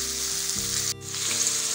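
Onions, capsicum and carrot sauté in hot oil, giving a continuous close sizzle with a brief dip and a scrape of stirring midway, and a low tonal hum underneath.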